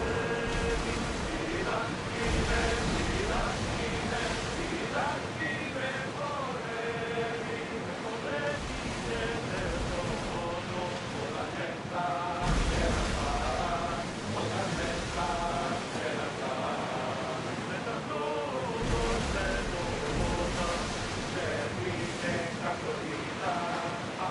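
Steady rush of wind and waves as a ship sails the open sea in Assassin's Creed Odyssey, with swelling surf and layered tonal sound running continuously at moderate level.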